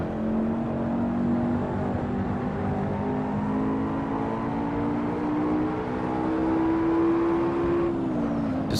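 A McLaren MP4-12C engine in Assetto Corsa on PS4 drones steadily at high revs, its pitch climbing slowly through a long pull before a quick drop near the end, loud and continuous with no talk.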